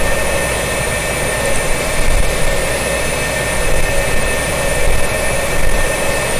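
An F-4J/S Phantom II jet taxis in a flight simulator, giving off a steady, loud engine roar and whine that holds unchanged throughout.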